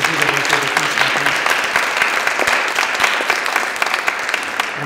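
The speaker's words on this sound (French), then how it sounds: "je pense qu'il mérite une bonne main d'applaudissements à tous les deux d'avoir été avec nous ce matin" An audience at a morning forum session gives dense, steady applause, many hands clapping close and loud without a break for about five seconds.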